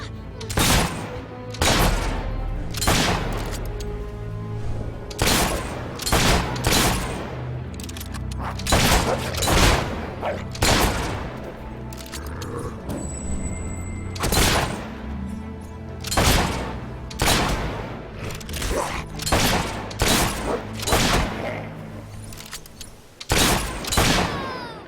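Gunshots ring out in the video game Fable 3, a long run of loud, sharp blasts spaced through the scene, some in quick clusters, over a steady bed of game music and ambience.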